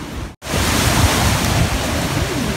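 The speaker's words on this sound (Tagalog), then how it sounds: "Lakas ng typhoon." Strong typhoon wind in Japan roars and buffets the microphone in a dense, continuous rush after a brief cut, loud and close.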